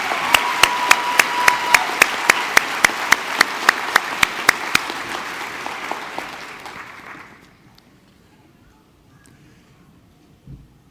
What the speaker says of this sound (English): Stacy Angelo deserves a round of applause for getting them all right.